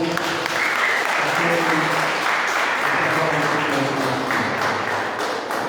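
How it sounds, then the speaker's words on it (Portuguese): A church congregation applauds for Jesus with sustained, dense clapping that fills the whole stretch, while voices call out over it. "Quem pode aplaudir a Jesus?"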